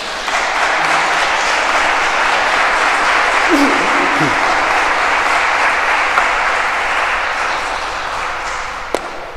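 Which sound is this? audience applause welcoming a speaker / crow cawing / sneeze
audience applause welcoming a speaker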